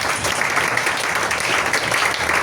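A church congregation applauding, a dense, steady burst of clapping from many hands that fills the space evenly and stays loud throughout.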